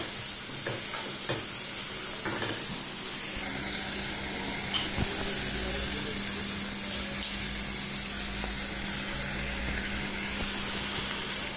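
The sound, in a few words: minced meat with spices being stir-fried in a pan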